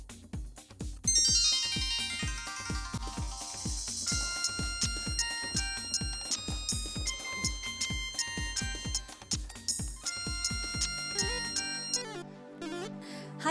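A melodic phone ringtone plays on a repeating beat over a thumping rhythm, loud and close, looping for several seconds before breaking off.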